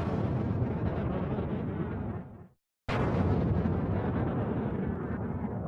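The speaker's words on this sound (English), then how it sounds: "this grand piano preset to sound more like a bomb explosion." A grand piano preset run through grain-cloud processing so it swells into a dense, roaring bomb-like blast, loud and sustained, cutting to brief silence before a second heavy burst rolls on.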